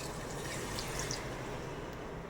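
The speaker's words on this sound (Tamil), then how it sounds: "இப்போ நம்ம நண்டு வேகிறதுக்கு கொஞ்சமாக தண்ணி சேர்த்துக்கலாம்." Water poured into a pan of frying crab makes a steady, even hiss that holds at a constant level throughout, close by and with no talking.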